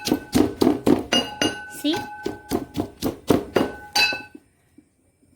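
A flat mortar and pestle grinds in a series of rhythmic clinking, knocking strikes, about a dozen sharp hits in quick succession. A person speaks briefly, and the sound stops abruptly near the end.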